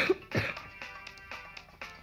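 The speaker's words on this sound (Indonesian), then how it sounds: "Maaf guys, gue batuk-batuk ya." Several coughs and throat clearings from a gamer at a microphone, a sharp burst near the start followed by smaller rasping clears spread over about two seconds, close and fairly quiet.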